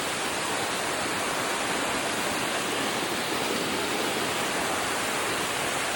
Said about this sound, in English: This is an awesome waterfall right here.